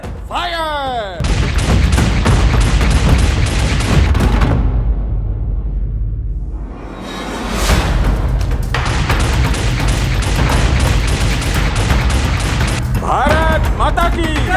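Rapid bursts of gunfire crackle in dense, evenly spaced volleys, loud and close, broken by a short lull before the firing resumes, with shouting voices at the edges.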